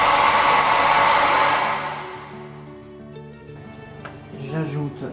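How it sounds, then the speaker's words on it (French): A hair dryer blows loudly and steadily over wet acrylic paint, then switches off after about two and a half seconds, leaving quieter room sound with a voice speaking. "je sèche avec mon sèche-cheveux"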